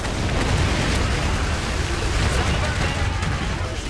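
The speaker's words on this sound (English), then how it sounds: "Artillery. Artillery attack." Dense, continuous roar of artillery shelling in the WWI-style strategy game Iron Harvest, with rumbling blasts blending into one another and staying loud and steady throughout.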